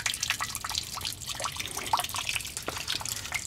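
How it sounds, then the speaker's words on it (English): Water drips steadily from a rotten, leaking galvanized hot water pipe on a short run under a house, with close, irregular drips and trickles and no talking. "it's the hot water line that starts leaking"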